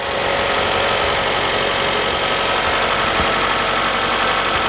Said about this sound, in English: you can hear the engine. It's really, really quiet.